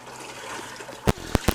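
Water flowing and trickling, a soft steady wash followed by three louder splashing bursts in close succession near the end, with no voices.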